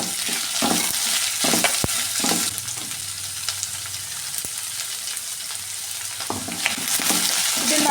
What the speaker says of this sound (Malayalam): ഇത് നന്നായിട്ടൊന്ന് വഴറ്റിയെടുക്കാമേ.